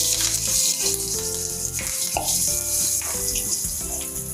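Cumin seeds, turmeric and a few curry leaves hit hot oil in a kadhai, giving a loud, continuous crackling sizzle close up over a faint background tone, with no voices.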